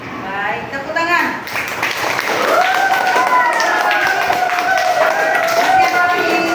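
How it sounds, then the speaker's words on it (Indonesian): A classroom of pupils claps their hands in a dense burst of applause lasting several seconds, close and fairly loud, with a teacher's and children's voices over the clapping. "Baik, tepuk tangan."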